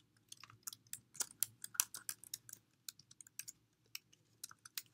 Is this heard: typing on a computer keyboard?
yes